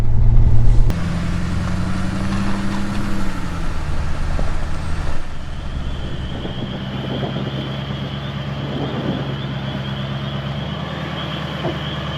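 A pickup truck with a camper runs on a rough, snowy or muddy back road, a loud, close, continuous engine and road rumble that drops slightly after the first seconds and then holds steady.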